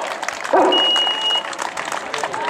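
Applause and cheering for a runner at an outdoor popular race in Meaño, steady moderate clapping from spectators mixed with crowd noise and a faint whistle, fairly close.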